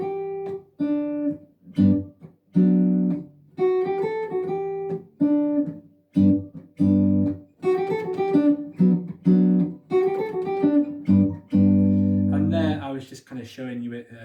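Jazz guitar lick, a run of clear plucked single notes and short phrases with brief gaps, played up close and alone, ending in a denser flurry.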